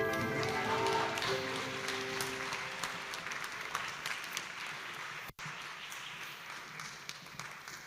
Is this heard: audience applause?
yes